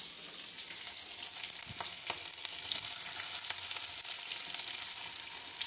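Onions frying in a pan for an okra (bendakaya) fry, a steady, close sizzle that swells slightly louder partway through, with occasional stirring scrapes and no voices.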